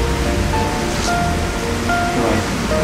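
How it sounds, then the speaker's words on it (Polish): Steady, loud hiss of rain filling the whole space, with faint tonal sounds drifting underneath. "no przecież to już pada"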